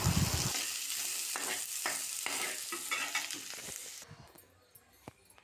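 A tempering sizzles in a pan for raw mango chitranna, a dense continuous frying hiss with faint stirring scrapes that drops away abruptly near the end, leaving quieter clinks.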